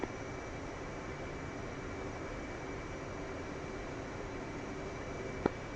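An aircraft engine drones steadily during takeoff in the DCS flight simulator, a constant broadband rumble at low level, with a brief sharp click near the end.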